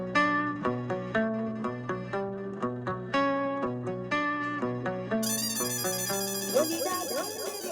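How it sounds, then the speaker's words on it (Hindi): A mobile phone ringtone plays a bright, repeating electronic melody of evenly spaced tones, fairly loud and close, running on steadily with no talk over it, while a denser, fizzier layer joins toward the end. "ए शुभू भाई का फोन"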